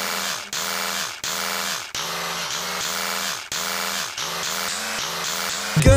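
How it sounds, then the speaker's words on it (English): A vibrator switched on, giving a steady loud buzzing drone that pulses in short repeated bursts, alone with no talk. "This is the sound of my vibrator when I turn it on."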